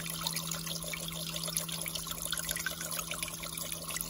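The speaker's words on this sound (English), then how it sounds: "there's a pump there that circulates the water." A small water pump circulates water inside a Mars Hydro Hydroline 12 hydroponic system, giving a steady trickling, bubbling wash with a low constant hum underneath, close and continuous.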